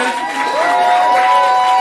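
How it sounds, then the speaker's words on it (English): Crowd at an indoor event cheering loudly, a dense, sustained swell of shouts and whoops with some high whistles running through it. "Give a round of applause for all y'all coming out, man."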